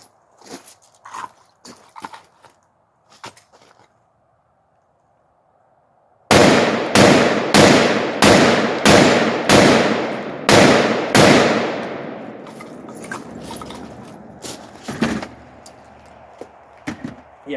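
An AR-15 pistol with a 7.5-inch barrel fires a rapid string of about eight sharp, very loud cracks close by, each with a ringing tail, preceded by scattered quieter knocks and followed by a few more isolated shots.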